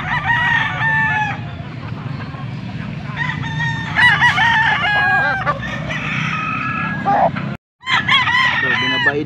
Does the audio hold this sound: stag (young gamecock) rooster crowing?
yes